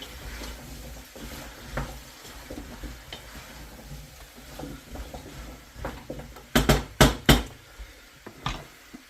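A spoon stirring beef stew in a pot, soft scraping and light sizzling with a few sharper knocks of the utensil against the pot near the end, quiet and close.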